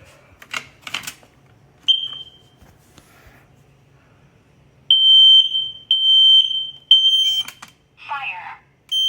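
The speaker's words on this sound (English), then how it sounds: "It's important to test the smoke detector." A smoke detector under test gives several loud, piercing electronic beeps in a repeating pattern, coming after some quieter handling noises and speech near the start.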